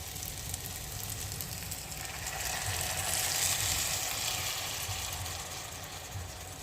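Vegetables fry with ginger paste, cumin paste and chili in a pan, producing a soft, steady hiss that swells slightly in the middle, faint and distant-sounding with a low rumble underneath and no voices.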